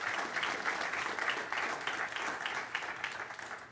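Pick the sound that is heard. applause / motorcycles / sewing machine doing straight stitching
applause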